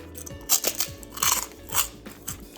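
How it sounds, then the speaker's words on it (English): Microwaved hot and spicy pork rinds, bacon curls, crackle sharply as they are bitten and chewed up close, with three or four loud crunching bursts and no talking. "Oh, that is crunchy."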